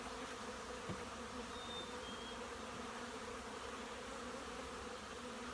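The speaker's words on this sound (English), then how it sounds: "Lots of bees though." Honey bees drone steadily inside an open hive box, a dense continuous buzz heard close up and alone, with no talk over it.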